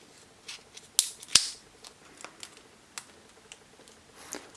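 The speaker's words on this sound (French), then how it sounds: "je soulève donc le plastique, je fais rentrer de l'air et avec délicatesse, je viens couper." Scissors or blade snipping around the bottom of a plastic bottle, a few sharp close clicks and crinkles spread over several seconds, with no talk.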